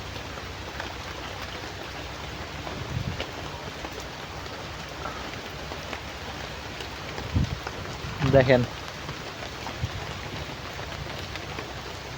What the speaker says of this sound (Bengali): বোঝা যায় বৃষ্টি কিন্তু পড়তাছে, খুব বেশি না, হালকা হালকা ফিরি ফিরি, কিন্তু অনেক ঘন